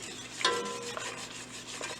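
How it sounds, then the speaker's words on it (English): A whisk scrapes and swirls through a warmed milk mixture in a pot, making a soft, continuous rubbing and stirring sound up close with faint clinks of metal, and nobody talking. "So I added that in and I've been whisking it."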